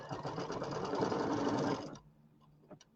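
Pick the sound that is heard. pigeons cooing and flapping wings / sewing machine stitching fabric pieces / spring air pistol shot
sewing machine stitching fabric pieces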